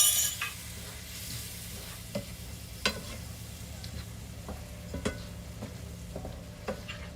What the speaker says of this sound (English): chopped tomatoes, stock, and then stir everything together.